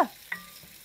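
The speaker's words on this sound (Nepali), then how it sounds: "अब यो प्याज र खोर्सानी लगाएर पकाउँछु यसलाई पनि अलिक पकाइदिनु पर्छ" Onion and green chili frying with garlic in a pan give a brief stirring scrape, then a soft continuous sizzle with a small clink, in a short close take.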